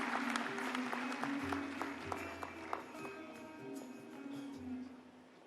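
Applause from an audience at a hackathon closing session, soft steady clapping heard at a distance in a large hall, with a low hum underneath.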